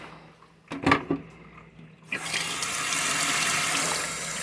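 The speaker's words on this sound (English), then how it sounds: "Put some water into that while it's cooking." Water is poured into a hot cooking pan on the stove, a sudden loud rushing splash and hiss that carries on steadily after a few brief clanks of handling.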